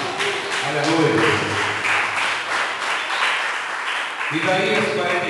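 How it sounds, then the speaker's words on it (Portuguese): A church congregation claps together in a dense, steady burst of applause, mixed with raised voices and music carrying over it throughout. "Aplauda o nome do Senhor"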